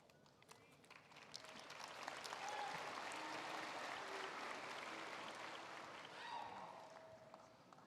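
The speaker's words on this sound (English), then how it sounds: "Please hold your applause until all platform guests are introduced." Audience applause at the Tomball Memorial High School graduation ceremony, a broad, steady wash of clapping from a large crowd that swells and holds for several seconds, with some murmuring underneath.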